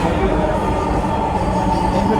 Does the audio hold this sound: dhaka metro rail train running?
yes